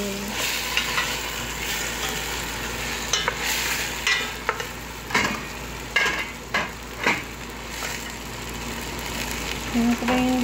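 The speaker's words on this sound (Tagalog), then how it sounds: "Haluin." Chicken stirred in a hot frying pan for an Arabic maqluba, a steady sizzle with repeated scraping and clacking of a utensil against the pan, close and fairly loud, no talk.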